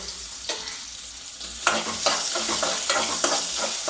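Sliced small onions sauté in a pan for beetroot chutney, sizzling steadily and loudly at close range, with sharp scraping and clinking strokes of a spoon through the sizzle.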